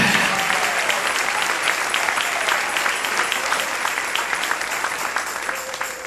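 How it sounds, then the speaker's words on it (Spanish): A church congregation applauds during a worship service, steady dense clapping filling the space at moderate loudness throughout, with faint voices and shouts mixed underneath. "Dale un aplauso al Rey en esta noche."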